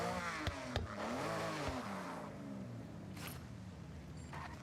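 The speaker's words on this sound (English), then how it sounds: "Race car sounds." A race car engine in Forza Horizon revs and whines, pitch sweeping up and down, with a couple of sharp clicks, fairly quiet and steady.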